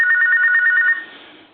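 Sony IT-M10 two-line telephone ringing with a close, loud electronic warble that pulses rapidly for about a second, then cuts off and leaves a faint tail.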